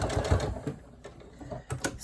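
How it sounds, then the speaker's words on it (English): A sewing machine stitches through a folded fabric pleat in a short, close run of rapid mechanical clatter that eases briefly before the stitching picks up again. "sew into that second pleat"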